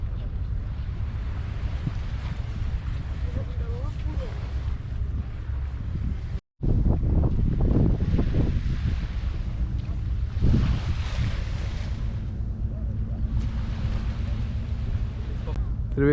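Steady wind buffeting a microphone with the wash of waves on the Baltic Sea shore at Gdańsk, loud and continuous, with a brief dropout in the middle and voices talking underneath.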